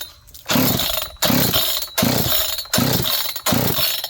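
A John Deere CS 81 chainsaw is pulled over repeatedly, five or six sharp, loud bursts of sputtering engine noise separated by short gaps, the motor coughing without catching.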